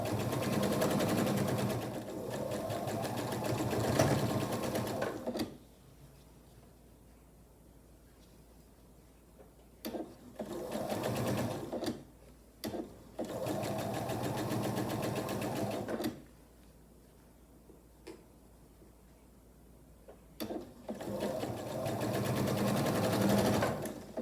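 A sewing machine stitches a quilt block seam in a steady, close mechanical whir, running in several long bursts separated by quiet pauses.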